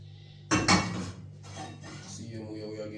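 A metal frying pot clanks once sharply and is shifted about on a hard surface, followed by softer scraping and handling sounds nearby.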